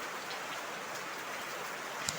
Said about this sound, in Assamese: তামাম বৰষুণ দি আছে ৰাস্তাতে।